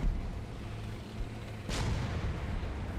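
A single heavy tank gun blast from the video game War Thunder cuts through a low engine rumble, followed by a continuing deep drone.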